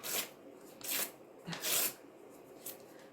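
Paper being torn by hand into small pieces for a pumpkin craft, soft close rips and rustles in several short bursts with quiet gaps.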